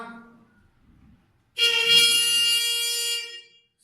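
A trumpet sounds a bright, brassy note loudly for about two seconds after a fading earlier tone and a short pause, played alone.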